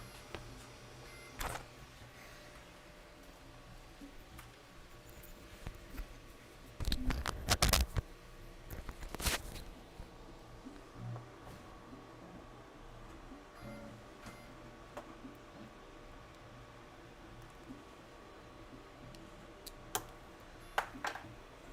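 Creality Ender-6 CoreXY 3D printer at work, a quiet continuous motor whir with stepper tones and scattered ticks and clicks, a louder cluster of clacks midway, heard close in a room.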